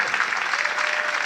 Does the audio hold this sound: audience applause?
yes